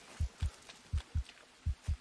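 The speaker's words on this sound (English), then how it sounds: "Healthy heartbeat is back" Steady heartbeat sound from the survival game Green Hell: three pairs of deep, soft lub-dub thumps in an even rhythm, close and alone with no talk.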